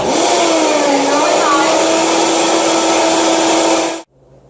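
A blender whirs at a loud, steady pitch for about four seconds while blending a vegan BLT sauce, then cuts off abruptly, leaving quiet room sound.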